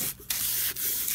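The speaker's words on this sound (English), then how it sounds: "sanded down, just on the shiny side, make sure that you wipe off all of your sanding dust so that your glue will stick" Sandpaper rubbing across the shiny side of clipboard pieces, a steady close scratchy sanding with two brief pauses between strokes.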